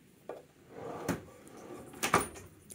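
Drawers on a Bluepoint by Snap-on steel service cart slide and soft-close in a quiet shop, giving a faint glide and then two muffled thuds, with no talk.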